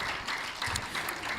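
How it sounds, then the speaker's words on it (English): Audience applause at a Southwest Region health insurance conference in Ondo for the special advisor on health: a steady wash of clapping from a seated crowd, moderately loud and continuous throughout, with no talk over it. "So can we all give the special advisor on health a round of applause"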